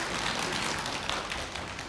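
Audience applause at a Buddhist dharma talk during a Saturday temple service, a dense, steady patter of many hands clapping together throughout the short moment, with no talk.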